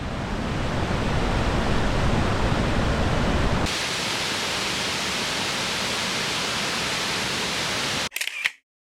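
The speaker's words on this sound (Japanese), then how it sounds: "行ってみると迫力の滝がありました。" Ryugu Falls, a powerful roadside waterfall beside a power station in Yamato, Kumamoto, roars as a dense, steady wash of noise that eases slightly partway through before a brief rustle and cutoff.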